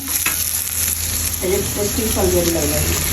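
Onions frying in oil and ghee until browned, giving a steady loud sizzle with stirring scrapes, and faint voices in the background.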